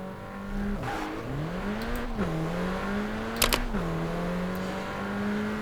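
A Mini Cooper JCW Countryman ALL4 engine in Forza Horizon 4 hums steadily and revs up and down in smooth waves, with a couple of sharp clicks partway through. No one speaks.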